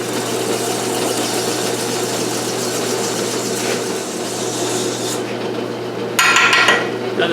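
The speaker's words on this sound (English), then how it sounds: "We're going to try and sand that and make it all nice." Sandpaper rasps back and forth over an aluminum motorcycle intake in a steady, close, gritty scraping with a low hum beneath, ending in a harsher, louder burst of rubbing.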